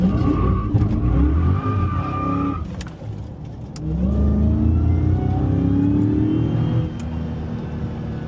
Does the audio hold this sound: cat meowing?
no